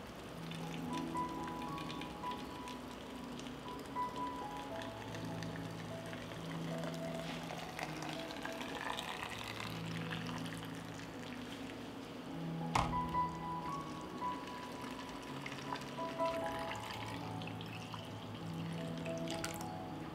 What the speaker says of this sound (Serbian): I proključalu vodu sipam u tegle.